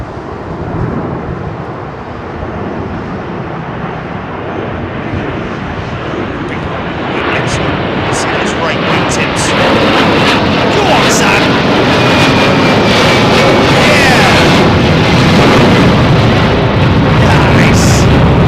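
A Delta Boeing 767-400 jet with old-style multi-blade turbofans at Heathrow, its engine roar building steadily louder and closer over the span, ending in a sustained heavy rumble with buzzing tones.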